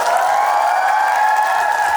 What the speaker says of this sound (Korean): 큰 박수 한번 다시 한번 부탁드립니다